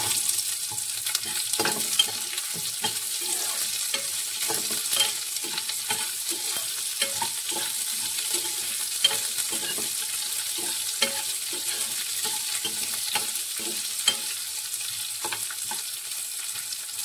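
Small ginger pieces and a large onion fry in a pan with a steady crackling sizzle, while a spoon scrapes and stirs at irregular intervals.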